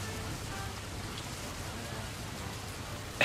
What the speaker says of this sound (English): I love listening to the sound of the rain.